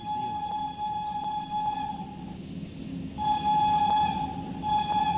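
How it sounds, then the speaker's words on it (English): Class E10 electric locomotive horn in Train Sim World 3, a loud steady whistle-like tone held for about two seconds, a short pause, then sounded again over the continuous rumble of the train. "There you have it. There's the horn."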